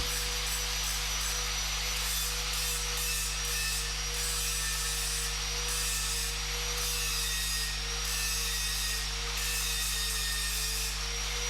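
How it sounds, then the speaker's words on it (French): An abrasive grinding wheel works over a weld joint on a 6-inch steel tube in a welding shop, giving a loud, steady, continuous whine with slight scraping fluctuations throughout. "N'oublions pas non plus de meuler la reprise."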